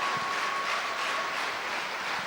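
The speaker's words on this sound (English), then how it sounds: "Panthers fans are clapping it down even." Nottingham Panthers fans clapping in an ice hockey arena during a game against the Hull Stingrays, a steady wash of crowd applause and arena noise that holds at an even level throughout.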